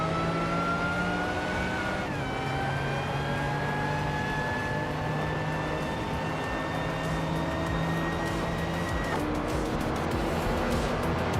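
Engine of a vintage Lamborghini Miura P400 SV from 1966 in a racing video game, a continuous loud droning whine that climbs in pitch, drops abruptly at a gear change, then rises again, with no talk.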